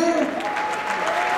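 A crowd at a Street Fighter 4 tournament final applauds as a team is introduced, a brief, loud, dense burst of clapping with cheering and a sustained tonal voice or whistle running through it.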